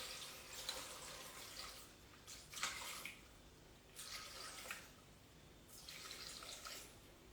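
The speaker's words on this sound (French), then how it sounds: "je vais mettre de l'eau à hauteur de 500 g." Water is poured from a tap into a Thermomix bowl in several separate gushing bursts with short pauses between them, quiet and close, with no talking.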